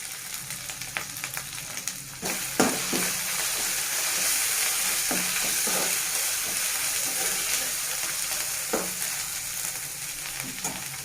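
Spices with turmeric fry in a pan for Telangana-style dappadam, a loud continuous sizzle broken by frequent spoon scrapes and taps, with no talking.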